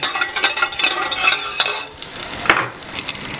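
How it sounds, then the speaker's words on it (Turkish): Onion powder being slowly stirred into a warm soup base with cumin and clarified butter, heard as soft sizzling and a run of close scraping spoon strokes against the pot, one sharper clink near the end. "Bunu yavaşça karıştıralım."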